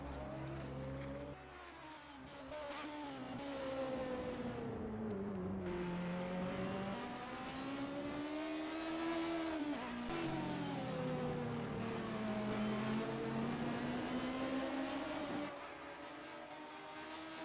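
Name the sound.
Lexus race car with throaty engine in racing video game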